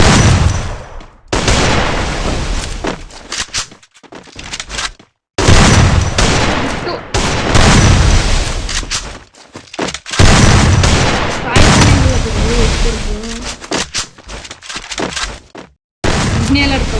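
Rapid bursts of gunfire and weapon cracks from a Free Fire Craftland 1v1 match, loud and dense in long stretches broken by brief gaps, with a person talking over the action.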